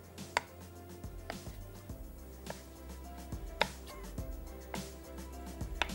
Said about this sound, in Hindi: झींगे के साइज़ कि आप फ़िश फिंगर स्टाइल में काट लें